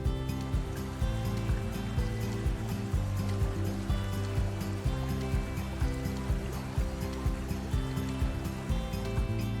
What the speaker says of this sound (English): Water splashes wildly over the uneven rocky rapids, carrying a refreshing chill that shatters the sweltering heat of the summer noon.